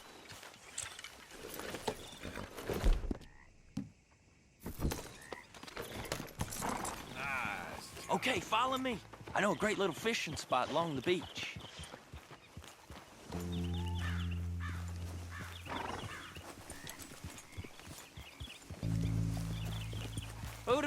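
Horse hooves clip-clopping at a riding pace in Red Dead Redemption 2, heading along a beach, heard under game character dialogue and buzzing music tones.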